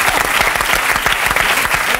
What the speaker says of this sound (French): Tu es devenu une star, on t'applaudit.